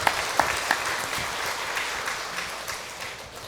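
A church congregation at a Sunday service applauds the choir steadily, the clapping dense and warm at first and slowly thinning toward the end.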